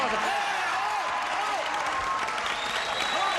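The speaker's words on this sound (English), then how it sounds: "Applause" Sustained studio audience applause on the game show Match Game-Hollywood Squares Hour as the two contestants are introduced, a dense, even roar of clapping with a host's voice faintly over it.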